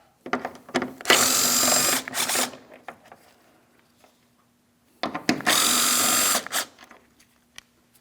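A power tool runs in two bursts of a few seconds each, with a pause between, backing out 10mm headlamp mounting bolts on a 2007-2014 Ford Edge, close and loud with a few small clicks and handling knocks around them.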